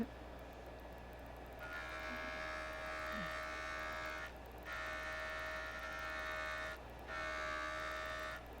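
A JOOLTOOL polishing machine running a fresh diamond disc over a chipped sapphire gives a steady, quiet electric hum with a faint whine, in three long stretches broken by brief dips.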